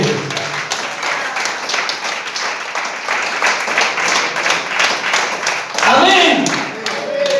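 A church congregation applauds, with dense, sustained clapping at moderate distance, and voices call out over it toward the end.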